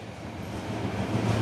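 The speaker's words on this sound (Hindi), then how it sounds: "अभी ट्रेन में है" Steady low rumble inside a moving passenger train, with continuous wheel-and-carriage noise that swells slightly toward the end and no voices.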